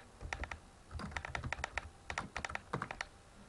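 Typing on a computer keyboard for a spelling quiz, with quick bursts of close, crisp key clicks that come in short uneven runs separated by brief pauses.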